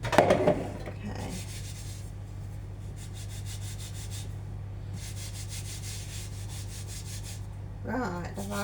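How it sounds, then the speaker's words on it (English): Hands rubbing flour over the palms while baking scones make a soft, continuous dry scuffing, steady and close, with a couple of faint clatters at the start and end. "put a little bit of flour on you, rub it on your hands"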